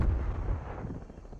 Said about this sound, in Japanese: 味方今発砲したんで